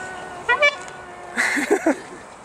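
A D.THRONE children's electric ride-on car, towing a trailer, sounds its toy horn in a few short, bright toots, one quick pair and then a later cluster, over a faint steady background hum.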